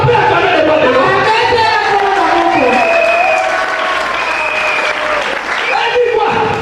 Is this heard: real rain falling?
no